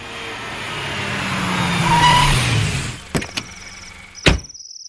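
A car rolls up a muddy village road, engine swelling as it nears and then cutting off, followed by a few sharp clunks of door or handle as it parks.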